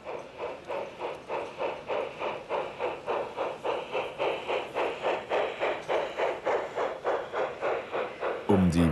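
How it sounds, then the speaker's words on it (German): LGB model freight train pulled by a New York Central Mogul steam locomotive with a tender, chuffing in an even, rapid rhythm that stays steady and fairly close, ending with a brief louder jolt. "Der Güterzug wird von einer Mogul-Schlepptender-Lok der New York Central Railroad gezogen."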